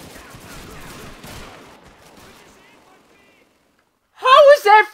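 Gunfire in the video game Call of Duty 2, a dense spread of shots under talk in the first three seconds that fades to quiet, then a loud voice bursts in near the end.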